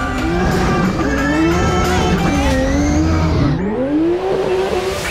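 A professional drift car slides with loud, sustained tire squeal over its revving engine, the pitch wavering as the car swings through the drift, close and continuous.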